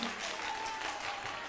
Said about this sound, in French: Applaudissez très très fort pour Nyalga 3.